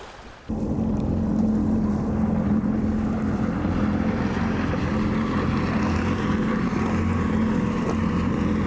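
A jet ski engine runs on open water during a fundraising endurance ride, a steady loud drone that kicks in after a brief quiet start and holds throughout, with some wind noise.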